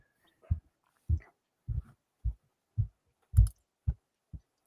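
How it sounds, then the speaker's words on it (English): A heartbeat thumps eight times at a slow, steady pace, each beat deep, soft and close, with silence between the beats and no talking. "I know I heard that heartbeat."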